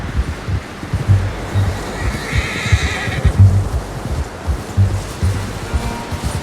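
A horse whinnies and snorts in the video game Red Dead Redemption 2, over a steady outdoor rush of wind, with soft hoof-like thumps repeating underneath.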